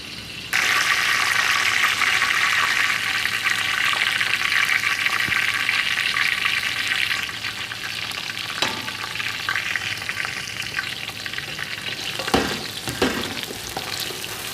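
Onions fry in a pan for chicken pulao, a loud continuous sizzle that starts abruptly and later softens, with a few scraping stirs near the end and no talk.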